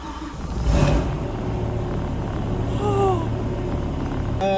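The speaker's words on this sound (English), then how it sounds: "putting the key in and pressing start for the very" A V10-swapped BMW E92 M3 fires up for the first time, a loud burst of cranking and catching near 1 s settling into a steady, rumbling idle that holds close and even through to the end.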